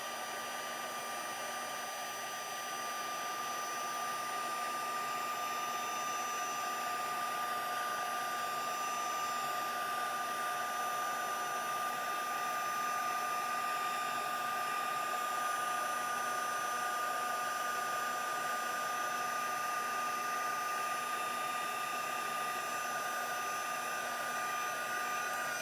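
A handheld heat tool for craft embossing blows hot air in a continuous, even whir with a faint tonal whine, steady throughout with no talking.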